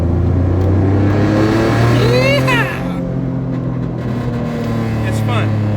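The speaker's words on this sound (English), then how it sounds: "It's got a weird exhaust note that I don't particularly care for." Turbocharged 3.7-litre V6 Ford Mustang revs on a dyno, its exhaust rising to a loud climbing howl that falls off and then builds again, heard up close.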